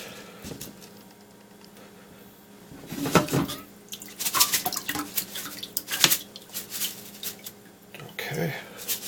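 Sushi rice being rinsed under running water in a kitchen sink, an uneven splashing and trickling stream that swells and fades with bursts of agitation as the grains are stirred, close by and moderately loud.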